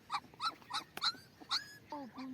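A puppy whimpers and yips in short, high-pitched bursts, several cries in quick succession, close by with some background noise.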